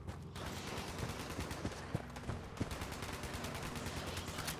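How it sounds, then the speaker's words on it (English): Sustained automatic gunfire in Fallout 76 aimed at the Lost, a rapid steady stream of shots with a few heavier reports, loud and continuous throughout. "Don't forget to shoot at the Lost. Get some shots off on those guys."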